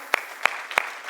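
Four claps from a conference breakout audience, struck together in a slow even beat, crisp and fairly loud over a faint room background.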